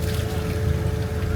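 Engines of a Seawind 1370 catamaran run just after starting, a brief, steady, close mechanical hum with a low droning tone and no voices.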